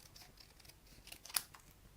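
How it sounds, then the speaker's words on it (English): Paper snips cut stamped cardstock with a few soft, quiet snips and one sharper click of the blades closing, heard close up with no talking. "I'm going to cut it out using my paper snips."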